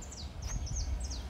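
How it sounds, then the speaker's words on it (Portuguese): Birds sing outdoors beside water at a magnet-fishing spot, a few quick high chirps in a brief, faint burst over a low background rumble. "Olha os passarinhos cantando"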